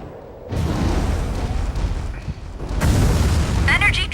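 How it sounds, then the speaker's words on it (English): A long-range shot lands in the Mobile Suit Gundam Crossfire video game, giving a heavy booming blast that rumbles low and is followed by a second, louder burst with debris-like crackle. "Somebody just took a long-range pot shot at me."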